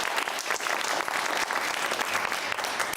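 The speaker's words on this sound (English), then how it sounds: "Round of applause," Studio audience on a British TV discussion show breaks into brisk applause welcoming guest Silkie Carlo, director of Big Brother Watch; the clapping is thick and continuous through three seconds, with nobody speaking.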